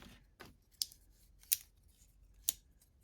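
Leatherman Raptor cutting shears snipping, three or four crisp, sharp clicks spaced irregularly, close and quiet with nothing else around them.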